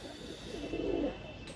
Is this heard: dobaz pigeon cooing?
yes